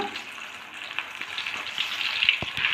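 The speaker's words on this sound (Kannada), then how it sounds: "ಈ ಮೆಣಸಿನ್ಕಾಯಿನ ಈ ಥರ ಹಿಟ್ಟಲ್ಲಿ ಡಿಪ್ ಮಾಡಿ ಈ ಥರ ಹಾಕೋಣ ಈ ಥರ ಫ್ರೈ ಮಾಡೋಣ" Batter-dipped stuffed masala chillies fry in hot oil, a steady bubbling sizzle with small crackles and a few soft clinks, close and alone without voices.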